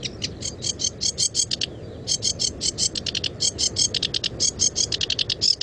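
A sedge warbler sings a rapid, chunky run of repeated chattering notes, bright and close, in dense bursts with a brief pause, over a low background hum.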